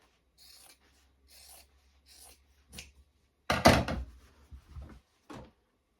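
Ripped denim jeans being cut down the center give a series of short, soft rasping snips, followed by one louder, longer crunching cut and a few quieter ones, close by with no talking.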